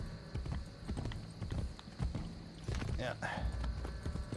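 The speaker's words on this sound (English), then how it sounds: "I should not have got on the horse." Horse hooves clip-clopping at a gallop in the video game Assassin's Creed Brotherhood, a steady rhythmic beat under game sounds, with someone talking over it.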